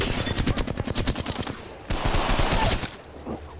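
Video game combat rattles with rapid bursts of machine-gun fire and sharp shots, followed by heavier thuds like grenades going off, moderately loud and dense.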